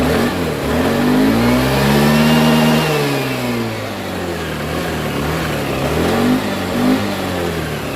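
A car engine that has stalled since morning cranks and then runs, revving up and down in loud, steady mid-pitched sweeps for several seconds without any talk.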